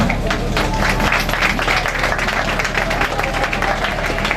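An audience applauds steadily at a family ceremony marking the end of mourning: dense, continuous clapping from many hands that holds a constant loudness throughout, with a crowd murmur underneath.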